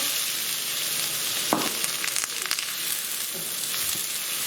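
Onions sizzling and frying in oil in a pan for a curry, with a loud steady hiss and occasional spoon scrapes from stirring, close up and without talk.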